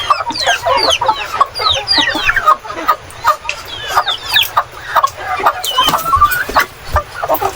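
Rhode Island Red chickens just arrived at a farm cluck and squawk close by, a dense, busy chorus of overlapping short calls with occasional louder cries throughout.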